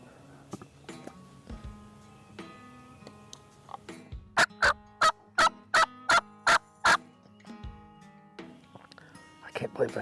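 A turkey during a spring turkey hunt gives a rapid, evenly spaced series of about eight loud, raspy yelps, close by and standing out over quieter talk and woodland background.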